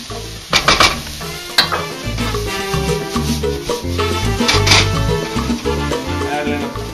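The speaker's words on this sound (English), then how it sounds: "we are going to start to saute our onions and garlic." Onions and garlic sautéing in hot olive oil in a pan, a steady sizzle with stirring and utensil clatter against the pan, close and fairly loud, with no talking.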